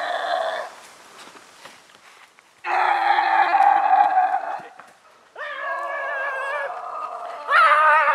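Staged bear calls in a comedic outdoor woods skit: three loud, drawn-out moaning growls separated by short pauses, the last rising in pitch, heard close and alone.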